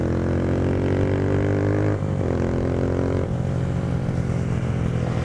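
A Honda CG 150 motorcycle engine drones steadily nearby as it rides, a close, continuous buzzing hum that shifts pitch partway through, with no voices.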